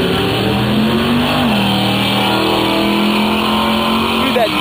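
A car accelerating hard in a race, a loud, continuous engine roar with a steady rising whine that dips briefly and climbs again, with voices talking over it.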